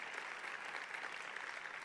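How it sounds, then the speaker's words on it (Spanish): Applause from a church congregation during a sermon, a steady, moderately distant wash of clapping with no clear gaps. "si vas a aplaudir, hazlo con más ganas"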